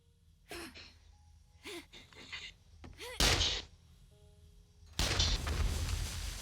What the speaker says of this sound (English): I saw exploding barrel. Yeah, I saw it It's explode.